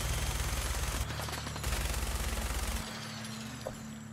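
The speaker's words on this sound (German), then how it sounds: "wie viel Munition ich hier verballere" Rapid automatic gunfire from a weapon in Fallout 4 VR rattles out in close, loud bursts. The fire stops around the three-second mark, and a sharp single report follows shortly after.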